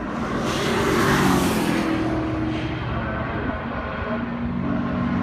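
A historic racing car at the Goodwood Revival circuit roars past at close range, its engine loud and sustained, then fades slightly as it drives away.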